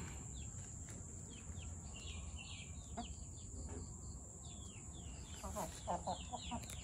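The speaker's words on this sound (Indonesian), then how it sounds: "nah datang tuh ayamnya" Pet chickens cluck and chirp in a noisy backyard, with soft scattered calls over a constant background hum and insect buzz.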